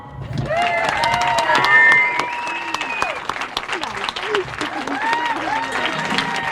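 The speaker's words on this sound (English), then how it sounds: "a round of applause for the team that made this kitchen, from the directors to the chef" Applause at the opening of a central kitchen, warm clapping from the gathered crowd mixed with chatter and voices, fairly loud and steady, easing slightly after the first couple of seconds.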